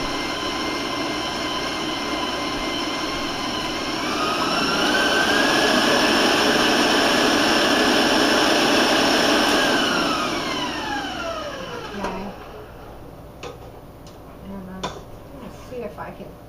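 An electric mixer beats cookie dough for Italian jam cookies. Its motor whine climbs in pitch as the speed is raised, holds loud and steady, then winds down and stops, leaving a few light clinks.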